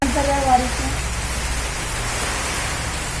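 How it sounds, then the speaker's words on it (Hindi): Heavy, pouring rain makes a steady, dense hiss that fills the whole stretch, loud and close, with a brief voice or tonal sound at the very start before the downpour carries on alone. "इतनी तेज और झमाझम बारिश आई है ना"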